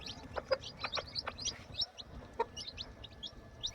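A hen clucks in short, soft bursts while day-old chicks cheep in high chirps around her, fairly faint and close.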